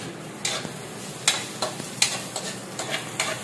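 Ginger sizzling in a pan with chicken, punctuated by a series of sharp stirring scrapes and clacks of a utensil against the pan over a steady frying hiss.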